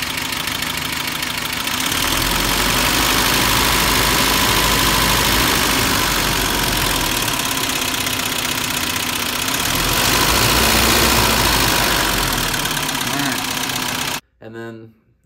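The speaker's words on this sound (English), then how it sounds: "I don't know if you can tell the difference in the way this sounds, but this is before I did the valve clearance adjustment." A 1992 Toyota pickup 4x4 with a 22RE engine and five-speed idles steadily before a valve clearance adjustment, loud and close with a constant mechanical clatter, ending abruptly in a short silence.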